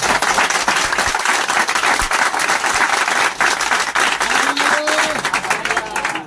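A church congregation applauds during a Hindi sermon, a steady dense wash of clapping that fills the whole stretch, with a voice speaking faintly underneath.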